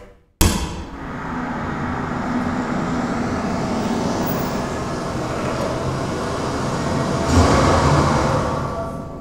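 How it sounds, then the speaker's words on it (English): Car pulling up as a sound effect in an old-time children's radio drama: a steady motor rumble starts abruptly, runs on evenly and swells briefly toward the end, with no voices. "Car just pulled up."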